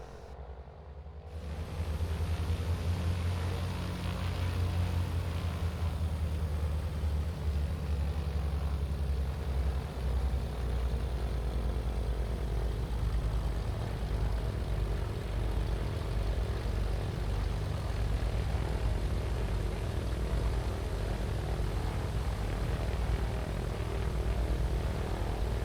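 A TB-30 Epsilon propeller aircraft in Microsoft Flight Simulator 2024 taxis after a brief quiet start, its engine droning in a loud, steady low rumble that stays constant for the rest of the stretch.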